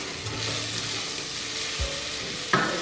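Food browns in an Instant Pot with a steady close sizzle, a soft thump and one sharp metallic clink near the end.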